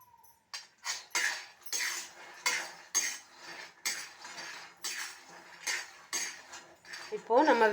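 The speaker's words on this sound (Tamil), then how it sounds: "இப்போது ஸ்டவ் ஆன் பண்ணி வேர்க்கடலை வறுத்துக்கலாம் இது அரை கிலோன்றதுனால பாதி பாதியாக போட்டு வறுக்கலாம்" Half a kilo of peanuts roasting dry in a pan on the stove, stirred with a spoon in a steady rhythm of scraping, rattling strokes, with a brief tonal beep at the start.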